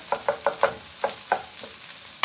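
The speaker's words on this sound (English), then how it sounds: "a little more garlic, give it a gentle stir" Garlic frying in oil in a pan is stirred gently, with about eight soft scraping strokes in an uneven rhythm, close by, over a faint sizzle.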